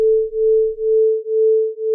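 A ring-modulated sine tone from a Bitwig synthesizer hums steadily at one pitch, its loudness swelling and dipping in a slow, regular wobble about every half second, alone without talk.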